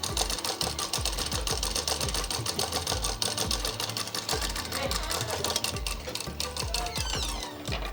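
Close, continuous clattering of a sewing machine stitching a second, double seam on a child's frock, a fast mechanical needle rhythm that runs nearly unbroken with small shifts in speed.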